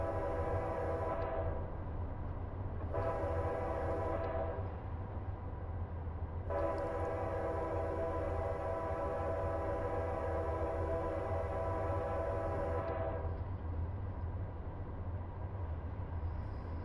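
Locomotive horn sounding for a grade crossing from inside a moving train: two short blasts, then one long sustained blast over a steady low rumble of rolling wheels and engine; no talking.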